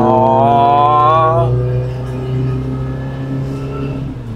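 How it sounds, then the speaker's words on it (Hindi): A Maruti Gypsy engine revs up close and loud, its pitch climbing steadily before a gear change drops it into a lower, steadier drone as the car keeps accelerating. "भगाओ तो फिर भगाने के तरीके से भगाओ, पूरे हायर RPM पे ले जाके गियर चेंज करो"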